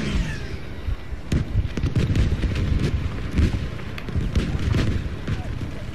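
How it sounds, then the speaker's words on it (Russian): Explosions and heavy gunfire boom through a video game battle as a Katyusha rocket launcher is blown up, with loud repeated blasts and crackling bursts across the whole stretch. "Я Катюшу взрываю."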